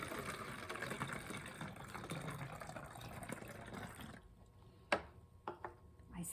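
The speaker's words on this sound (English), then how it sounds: "I'm going to pour my water into my water bottle." Water pours through a funnel into a water bottle in a steady, gushing trickle for about four seconds, then stops, and a few short clunks and taps follow close by.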